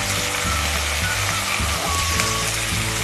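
Onions and tomatoes sautéing in a pan for kadai paneer gravy, a steady close sizzle and frying crackle filling the whole stretch with no talk, a low hum running underneath.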